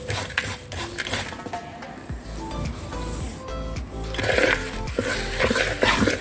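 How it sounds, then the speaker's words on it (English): Dry granola ingredients, oats with cinnamon, are stirred in a bowl, producing a steady run of scraping, rustling and light clinks of a utensil against the bowl, close and moderately quiet. "So after this, we are going to mix all the dried ingredients"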